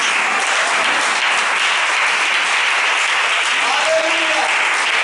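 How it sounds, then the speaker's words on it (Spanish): A church congregation gives loud, sustained applause, a thick continuous roar of clapping hands lasting about five seconds, with a brief vocal cheer rising near the end. "Puede sentarse dando un fuerte aplauso al Señor Jesucristo."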